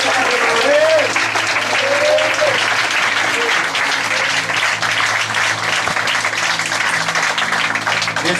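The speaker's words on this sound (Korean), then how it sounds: "이 시간 주님께 박수로 영광을 올려드립니다" A church congregation claps steadily in praise during a worship service, dense, even applause throughout with voices faintly under it.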